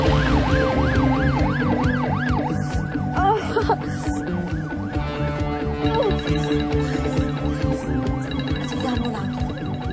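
An ambulance siren wails loudly and continuously, rising and falling tones cycling then shifting pattern, close and dominant amid faint traffic.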